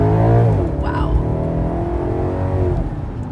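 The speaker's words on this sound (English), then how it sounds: "it's that growl that motor makes" A 2010 Maserati Quattroporte GTS Sport revs its engine, a loud close growl that swells and falls in pitch, with a voice briefly talking over it.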